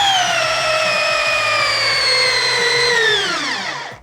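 Bosch 1330C drill bores into an 8-inch timber lock, a loud steady high-pitched whine with gliding harmonics under a low pulsing rumble, slowing and dropping in pitch near the end before cutting off.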